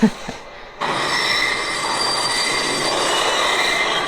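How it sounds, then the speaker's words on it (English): A train rolling along rails with a loud, sustained high-pitched wheel squeal and steady rumble, starting abruptly after a brief quieter moment. "Oh, I love a train scene."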